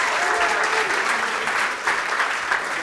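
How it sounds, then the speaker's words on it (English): An audience breaks into sustained, dense applause as a volunteer comes on stage at a public economics lecture, steady and fairly loud throughout without talk. "A big round of applause, please, for Jasper."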